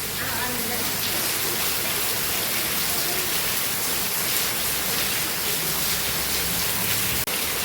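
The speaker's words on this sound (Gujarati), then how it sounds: "વરસાદ જબ્બર ચાલુ થઈ ગયો" A steady roar of heavy rain falls outdoors in a village, dense and constant from start to finish, with a single sharp knock near the end.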